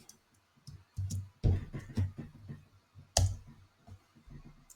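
A computer mouse clicks while working in Power Apps software, giving a scattered series of short, crisp clicks up close in a quiet room.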